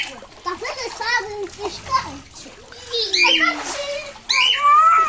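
Water splashing as a young child bathes at home, with repeated splashes under continuous child chatter and adult voices speaking Portuguese throughout.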